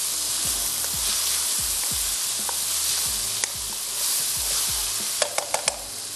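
Chopped capsicum is stirred into pav bhaji pasta frying in a pan: a steady sizzle with repeated scraping stirs of a spoon, then a few sharp taps of the utensil against the pan near the end.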